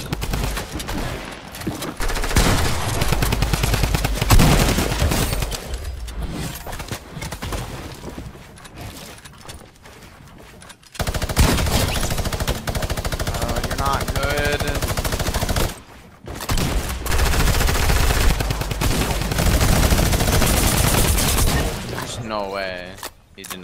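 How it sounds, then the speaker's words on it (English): Bursts of gunfire in a Fortnite Chapter 2 duo arena match, loud rapid volleys separated by pauses, mixed with game effects and occasional talk. "Two shots."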